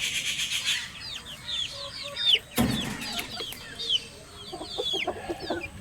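Chickens in a coop cluck and chirp close by in a steady scatter of calls, with a brief rustling clatter in the middle.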